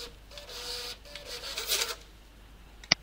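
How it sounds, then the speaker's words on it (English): A point-of-sale receipt printer runs a test page, giving a soft buzzing, whirring print sound for about two seconds, then a sharp clack as the paper is cut or torn near the end. The printer is close, with no voices. "Now I hope you can hear my printer test running."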